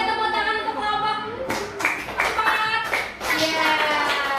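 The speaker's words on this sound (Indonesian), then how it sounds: "tepuk tangan untuk kelompok" Children's classroom applause for a group: a burst of scattered, uneven clapping starting partway through, with kids' voices and talk underneath.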